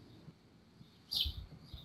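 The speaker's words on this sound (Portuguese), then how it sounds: "passarinho, coisa mais linda" A small bird gives one brief, high chirp partway through, faint and somewhat distant over a quiet room background.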